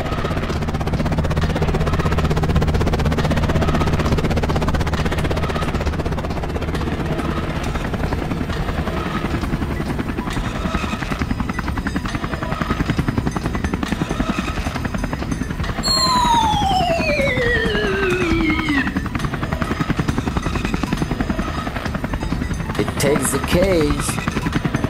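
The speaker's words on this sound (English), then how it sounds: "the chopper gets ready" Toy helicopter in a zombie farm diorama scene, its steady rotor drone and engine hum running loud and continuous throughout, with music-like tonal sweeps and a falling siren-like whistle joining near the end.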